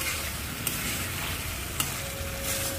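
Meat braising in a covered pan with splashes of water added, a low steady sizzle and bubbling throughout, broken by a couple of sharp scrapes as it is stirred.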